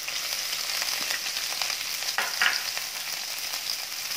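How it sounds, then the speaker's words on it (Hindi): Capsicum and cabbage frying in hot oil over a high gas flame for street-style veg chowmein, giving a steady, close, bright sizzle throughout with a few louder crackles partway, and no talking. "ऑयल हमारा गर्म हो चुका है, मैं डाल दूंगी इसमें शिमला मिर्च।"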